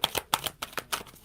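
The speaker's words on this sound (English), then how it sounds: "That's enough shuffling." Tarot cards are shuffled by hand in about six quick, crisp riffling bursts, close and clear with no talk over them.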